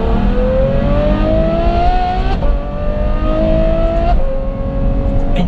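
A Ferrari F12 with a Novitec N-Largo exhaust system and 100-cell catalytic boxes revs hard, loud and close, its engine note climbing in about three rising sweeps with brief drops between them, with no talking.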